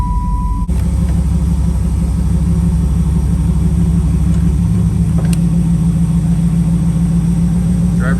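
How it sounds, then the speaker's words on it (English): A 1995 Camaro Z28 engine turns over with a short click, then settles into a steady low idling rumble that continues close by. "So what I'm gonna do now is start the car"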